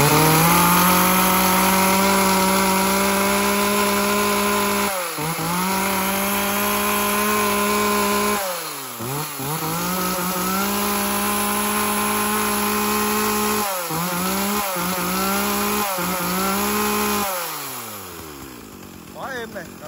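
A secondhand Japanese S1 chainsaw engine runs loud and close, with a steady buzzing idle broken by several sharp throttle revs and dips.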